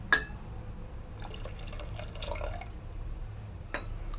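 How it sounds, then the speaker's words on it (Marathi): Mutton stock pours into Kolhapuri white curry (pandhra rassa), making faint, close trickling and splashing liquid sounds after a soft clink at the start. "वरून आपण मटणाचा स्टॉक घालणार आहे।"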